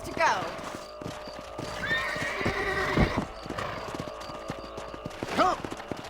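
Horse hooves clip-clop steadily through a ranch patrol in Red Dead Redemption on Xbox 360, with a horse whinnying near the start and again near the end over ambient game sound.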